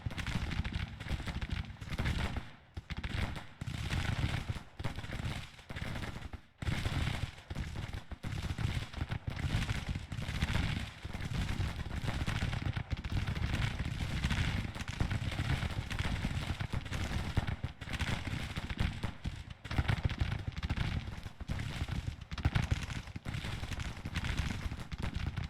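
Skirmishers' musket fire in Grand Tactician, heard as steady crackling volleys of scattered shots over a continuous battle din, at a moderate distance and fairly quiet.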